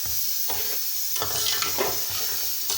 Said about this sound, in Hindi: अब मैं आधी प्याली इसमें पानी डालूँगी और ये चीनी जो है 2 गिलास में डाल लूँगी इसमें।